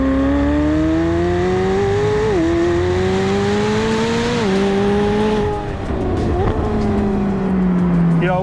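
A McLaren 750S engine revs hard nearby on a race track, climbing in pitch and dropping at each gear change, a loud, continuous roar.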